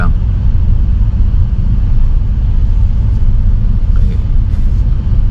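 A homemade electric car rolls slowly in second gear, giving a loud, steady low road rumble throughout with faint high whine traces and no clear talk.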